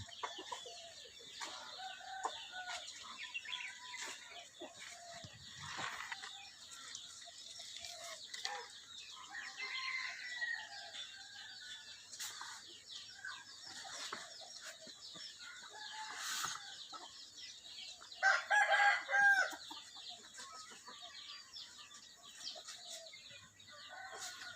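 Chickens clucking and a rooster crowing in a rural Thai fruit orchard where geese are also kept, scattered calls throughout with one louder crow near the end, over quiet outdoor ambience.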